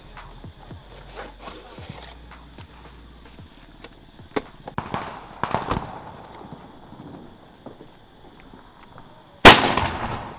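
A Diwali 2024 fancy firecracker called Spicy Stars goes off outdoors: scattered small pops and crackles, then a single loud, sharp burst near the end.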